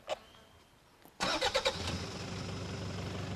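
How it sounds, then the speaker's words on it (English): An off-road 4x4 car's engine cranks several times in quick pulses, catches and settles into a steady close idle after a short quiet lead-in with a couple of faint clicks. "Sean, do you want to start your engine?"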